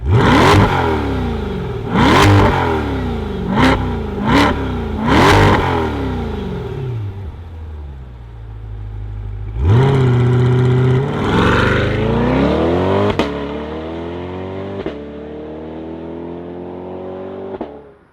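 A C8 Corvette Z51 Stingray R V8 cranks in several sharp bursts, then catches and roars with a deep, rising rev before settling into a rumbling idle that slowly climbs.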